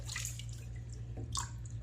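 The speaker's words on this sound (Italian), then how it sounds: "Allora fatemi buttare l'acqua perché tiene troppi peli." Soapy shaving water is tipped out of a bowl, a few brief splashes and trickles over a low steady hum, quiet and close.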